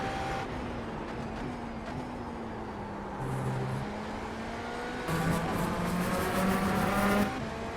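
A GTP prototype race car in the iRacing sim runs flat out at Watkins Glen toward the downhill braking zone of turn 1. The engine holds a loud, steady whine that rises and shifts pitch through gear changes.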